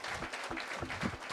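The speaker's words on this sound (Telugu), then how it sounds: "వారికి ఒకసారి గట్టిగా చప్పట్లు కొడదాం." Steady applause from a gathered audience at a spiritual scientists' conference at the Brahmarshi Pyramid in Visakhapatnam, dense and continuous for just over a second.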